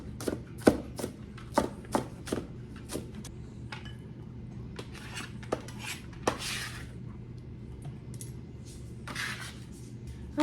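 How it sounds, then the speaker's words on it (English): A knife chops green onions on a cutting board in a home kitchen, with a run of sharp, close taps in an uneven rhythm that thins out and then resumes, heard on its own without talking. "Okay, so I'm just chopping up those green onions."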